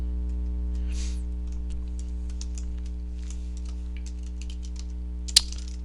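Computer keyboard typing comes in quick, light, irregular clicks over a steady electrical hum, with a few brief pauses and one sharper key tap near the end.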